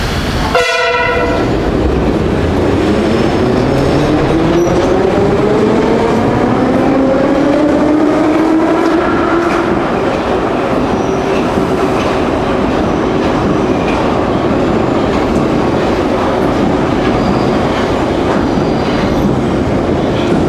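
A Moscow metro train runs past, opening with a short blast of its horn, then a loud rising whine as it accelerates and rumbles along the track with rhythmic wheel clatter.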